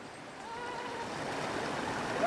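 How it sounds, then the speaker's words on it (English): Texas Creek running along the Colorado Trail's Collegiate West section, a steady broadband rush of flowing water that swells slightly louder toward the end, heard alone without talk. "Texas Creek. you can hear it."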